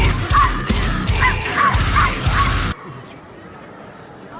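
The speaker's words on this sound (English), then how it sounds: "listening to the spawn of Satan in dog form yelping" A small dog yelps repeatedly in a busy queue in Prague, sharp cries over music and background voices, before the sound cuts to near quiet.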